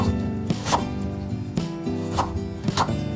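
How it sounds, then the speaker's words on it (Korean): Knife slicing peeled kohlrabi into 7–8 mm thick pieces on a cutting board, with several distinct chopping thunks spaced about half a second apart and close up, over a steady background hum. "껍질 벗긴 콜라비를 7, 8mm 두께로 썰어주세요."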